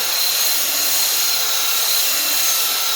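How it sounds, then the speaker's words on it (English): Belt sander fitted with a 40 grit belt working a large flat wood cross section, a continuous loud even whir and hiss with no breaks. "My goal is just buffing out the 40 grit cut, like the 40 grit belt sander in there."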